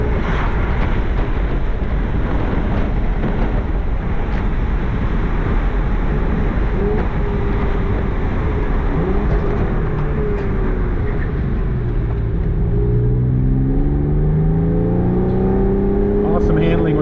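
A 2005 Porsche 911 Carrera 4S Cabriolet with the factory sport exhaust option drives along, its engine a loud, continuous drone under road and wind noise, rising in pitch as it accelerates near the end.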